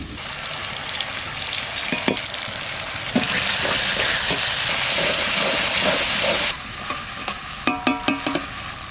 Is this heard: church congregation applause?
no